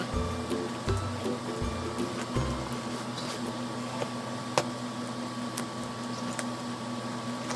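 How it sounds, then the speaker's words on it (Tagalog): An electric fan runs with a steady whirring hum and soft airy hiss throughout, with a few dull knocks early on. "Pasensya na narinig yung electric fan na kasi dito sa kwarto."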